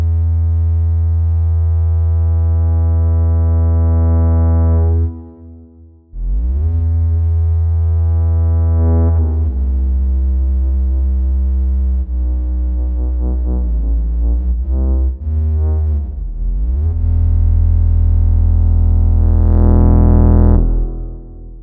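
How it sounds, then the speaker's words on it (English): A loud sustained Faceplant Synth tone on an Erae Lab controller glides and bends in pitch, its buzzy distortion, mapped to pressure, swelling and easing, with a short break near the start. "I use Faceplant Synth and map the pressure to the distortion mix."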